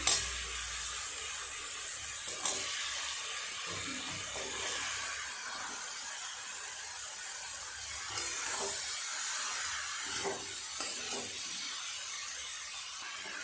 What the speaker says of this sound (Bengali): সমস্ত মশলার সাথে চাল কুমড়ো আলু একটু সময় নিয়ে ভালো করে নেড়ে চেড়ে কষিয়ে নেবে